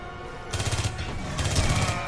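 Rapid rifle gunfire in the video game Aliens: Colonial Marines, a dense burst of repeated shots lasting about a second and a half and following a short lull.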